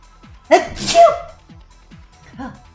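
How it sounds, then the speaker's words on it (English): A single loud, sharp sneeze bursts out close by, followed by quieter sniffs and a brief murmur, with faint thumping in the background. "Oh, I gotta sneeze."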